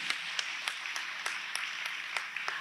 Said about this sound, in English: Go ahead, give them a round of applause.